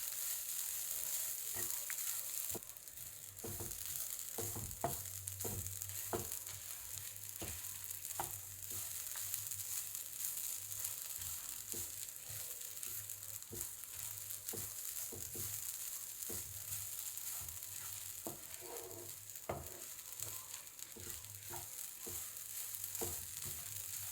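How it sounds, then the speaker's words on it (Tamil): Coconut and tamarind fry in a pan for coriander thuvaiyal, giving a steady close sizzle scattered with sharp crackles and pops throughout, with no talking. "இப்போ தேங்காயும் புளியும் போட்டு இது லைட்டாக ஃப்ரை ஆன போதும்"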